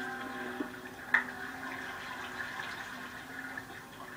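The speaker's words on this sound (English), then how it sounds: "This water's really annoying." Water in the video game Minecraft, Xbox version, makes a soft continuous rushing and sloshing, fairly quiet, with one brief splash-like accent partway through.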